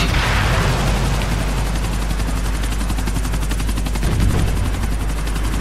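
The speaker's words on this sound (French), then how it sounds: "on a quand même des hélicoptères" A loud, steady helicopter drone with a rapid rotor chop runs without a break, close and filling the whole stretch, from the video game GTA IV.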